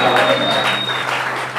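A church congregation claps hands together in praise, giving loud, continuous, dense applause with a faint voice threaded through it.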